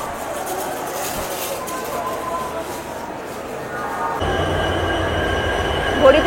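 Express train 12857 pulls out of Howrah station, its rumble and faint wheel squeal swelling into louder clattering rolling noise after a few seconds, heard up close from inside a general carriage.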